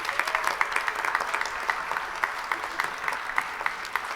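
Applause for faculty, staff and families at an LPN nursing pinning ceremony, an even, sustained patter of many hands with some sharper individual claps standing out, heard at a moderate distance.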